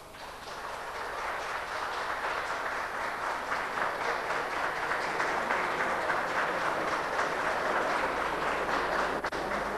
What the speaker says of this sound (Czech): potlesky z galerie nejsou přípustné v této sněmovně a nebudu je trpět